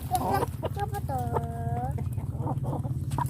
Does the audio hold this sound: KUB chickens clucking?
yes